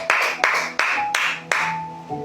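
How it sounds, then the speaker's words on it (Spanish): Congregation in a church clapping together in worship, about five loud, sharp group claps in a steady rhythm with a faint sustained tone ringing beneath, no talking. "Denle palmas al Señor."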